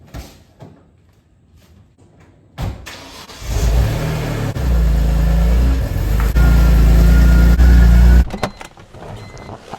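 A stock BMW E46 M3 engine starts and revs up loudly, holding a rough, throaty roar for several seconds before dropping back off, very close.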